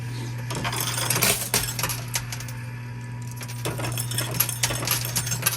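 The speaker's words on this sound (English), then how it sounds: "Let the coins fall where they may." Coins drop and clatter inside a St Patrick's-themed coin pusher arcade machine. Metallic clinks and jingles come in irregular bursts over a constant low machine hum.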